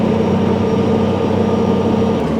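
A tractor mows a patch of green mare's tail weeds, its engine holding a steady low drone with a continuous mower hum, close and even throughout.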